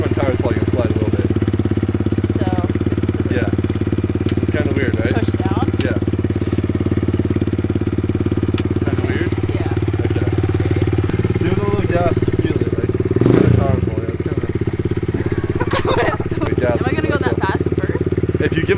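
A dirt bike engine runs steadily throughout at a low idle-like drone, close and loud, with people talking over it and a brief surge of revving partway through.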